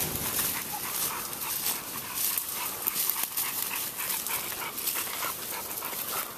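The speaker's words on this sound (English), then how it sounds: "Finna go to these dogs, they bayed up." Hunting dogs baying at a cornered hog in the woods on a hog hunt, a steady mass of barking and yelping under loud broadband outdoor noise, continuous throughout and fairly distant.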